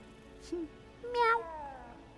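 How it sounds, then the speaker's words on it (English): A cat in the video game Hogwarts Legacy gives two soft meows, a short one and then a longer rising call, near but quiet, with no talk over them. "Kitty cat!"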